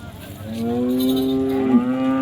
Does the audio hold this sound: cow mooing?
yes